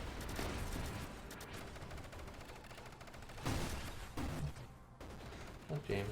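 Dense bursts of rapid gunfire from bullets in the space shooter Nova Drift, a continuous crackling barrage with a few louder surges, mixed under game sounds and faint talk.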